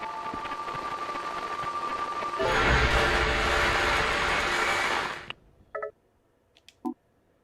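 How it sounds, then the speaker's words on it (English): A harsh electronic whine from Harry's cell phone picking up interference in Silent Hill: Shattered Memories swells into a loud buzzing roar, then cuts off abruptly. A few short electronic blips and chirps follow in near silence. "Something in this room is interfering with Harry's cell phone. Listen to the whine and hone in on the disturbance."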